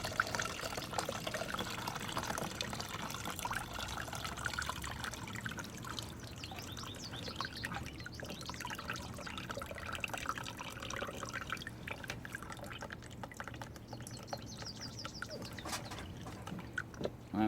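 Rinse water poured off sprouting grain grown as rabbit fodder, a steady close trickle and dribble of liquid running through fingers, continuous and fairly even for the whole stretch.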